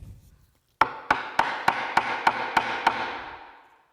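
A gouge strikes into the wood of a sculpted child's rocker in eight sharp, evenly spaced taps, loud and close, each ringing briefly before the next.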